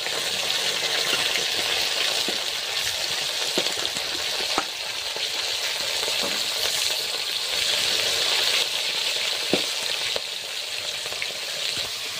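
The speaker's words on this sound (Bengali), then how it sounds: "মাছ ভাজার জন্য তেল দিয়ে দিয়েছে, মাছটা ভেজে নেবো" Fresh pond-caught fish frying in hot oil, a steady bright sizzle that continues throughout with occasional light clicks and pops, close and fairly loud, no voices.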